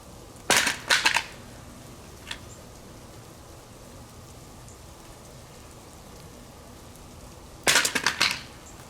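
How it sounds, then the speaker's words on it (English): A polymer rifle magazine with metal-lined feed lips dropped onto concrete, giving two sharp clattering impacts with quick bounces, one early and one near the end, separated by quiet outdoor background. "Now we're going to drop it directly on the feed lips."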